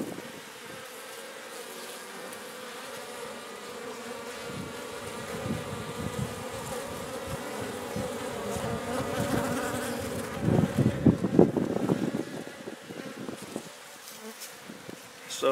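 Bees buzz around a nucleus box in a steady, fairly quiet drone, with a closer, louder pass of wings near the end.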